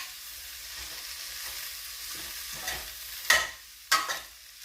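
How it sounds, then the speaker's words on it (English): Cabbage is stirred in a sizzling frying pan, with a steady frying hiss broken by two louder scraping clanks of a utensil near the end. "I'm going to go ahead and start stirring it."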